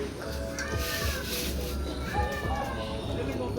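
Cat meowing a few times, with short rising and falling mews heard faintly amid people talking and background chatter.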